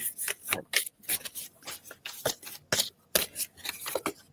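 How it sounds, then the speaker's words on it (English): Playing cards shuffled repeatedly in quick riffling bursts, close and crisp, with short pauses between shuffles and no talking. "Card shuffling ASMR."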